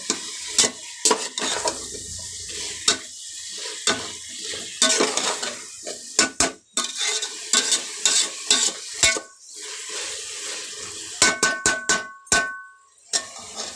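Food fries in a pan while a utensil clatters and scrapes against the metal in irregular bursts. A soft sizzle runs between the knocks throughout, and no one speaks.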